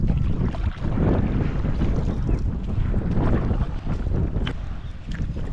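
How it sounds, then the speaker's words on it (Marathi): Strong wind sweeps across a mangrove creek near Mumbai while a wooden fishing boat is out on the water. Wind buffets the microphone in a loud, continuous roar mixed with water wash, and no one speaks. "आज वारा पण खूप आहे"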